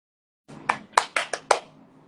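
Quick hand clapping at close range: five or six sharp, slightly uneven claps in a fast burst, with a faint background hum and no talking.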